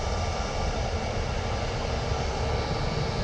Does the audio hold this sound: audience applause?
no